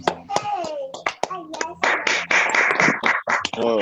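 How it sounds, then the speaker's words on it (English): A crowd applauds at a masonry training graduation ceremony, with a short burst of dense clapping rising in the middle after some speech and a few scattered claps around it. "let's give a round of applause to Nesto one more time"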